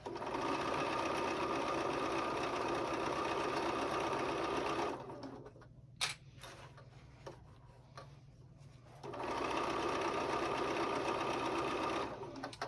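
Sewing machine stitching a fabric Christmas pouch, a fast steady mechanical whir for several seconds, a pause with small clicks and handling sounds, then the rapid stitching resumes close up.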